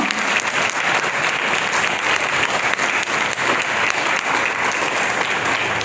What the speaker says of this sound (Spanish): si lo va a aplaudir, aplaudan al Señor